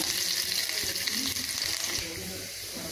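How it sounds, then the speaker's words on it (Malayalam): Chopped onion hits hot oil with a loud, continuous sizzle, close up, hissing steadily before easing off slightly near the end. "അതിലേക്ക് നമുക്ക് ഒരു ചെറിയ സവാള അരിഞ്ഞ് വെച്ചിരിക്കുന്നത് ഇട്ട് കൊടുക്കാം"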